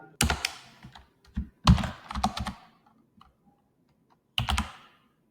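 Keystrokes on a computer keyboard as a username and password are entered, arriving in short quick bursts of close, crisp clicks separated by brief pauses, with one final flurry after a gap.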